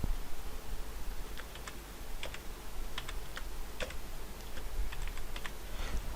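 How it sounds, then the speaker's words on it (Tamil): Rapid, uneven clicking of keys on a computer keyboard, close and fairly crisp, coming in short bursts over a faint room background with no talking. "இப்போ நான் டைப் பண்ணுறேன்"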